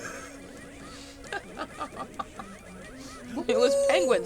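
A man imitates a turkey gobble with his voice while playing a video game, a few short throaty bursts followed by a louder warbling gobble near the end, mixed with game sounds.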